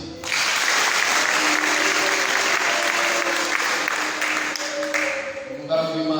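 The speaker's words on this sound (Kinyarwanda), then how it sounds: "Ureke dukomere Imana amashyi." Church congregation applauding, a loud, sustained wave of clapping from a crowd that fades slightly before a voice begins speaking at the end.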